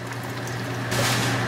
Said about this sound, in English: 1 cup water.